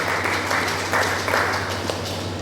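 A church congregation applauding, a short steady burst of dense crowd clapping with a low hum beneath.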